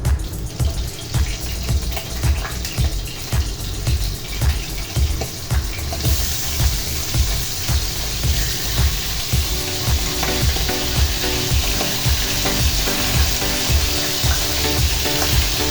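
Chicken pieces frying in hot oil for a potato chicken roast, a loud, dense sizzle with steady crackle and bubbling throughout, stirring clatter repeating underneath and the sizzle growing brighter partway through.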